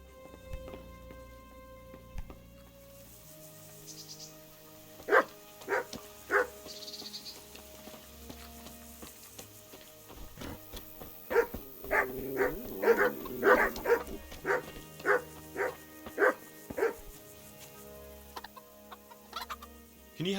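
Dog barking in the medieval role-playing game Kingdom Come: Deliverance, a run of sharp, close barks coming in bursts over a low ambient backdrop, with faint fowl-like clucks mixed in.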